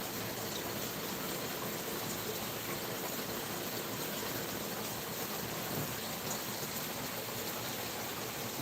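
Shallow creek water flowing steadily, a soft continuous broadband rush heard at low level with no speech over it for the whole stretch.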